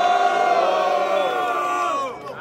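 A loud crowd at the final of a Brazilian street rap battle in Cuiabá cheers, whoops and shouts continuously, a dense roar that stays strong before easing off near the end.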